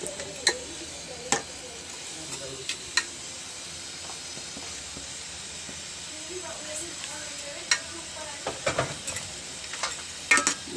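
Chickpeas tipped into a gram flour mixture for chana chaat with salt, chillies and green masala, then stirred; soft scraping and stirring sounds with faint crackle, a few sharper ticks of the spoon, close and quiet.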